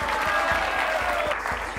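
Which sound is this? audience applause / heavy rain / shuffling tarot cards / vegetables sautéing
audience applause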